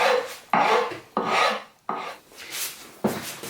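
A file rasping wood on a guitar neck being re-carved to a new profile, with five distinct coarse strokes that each start sharply and then fade, heard up close with no voices.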